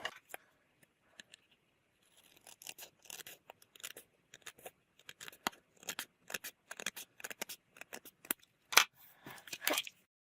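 Scissors trim cardstock for a partial die-cut window card in a series of quiet, crisp snips, some quick and clustered, others spaced apart, with no voices.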